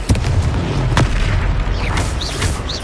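A Confringo blasting spell from Hogwarts Legacy, a loud booming burst at the start and a second sharp impact, followed by a rumbling battle din with magical whooshes.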